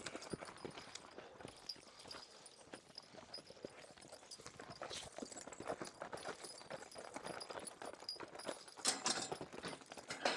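Hooves of a three-abreast driving team of horses clip-clop steadily in a quick rhythm, close by, with faint jingling of harness and scattered background noise.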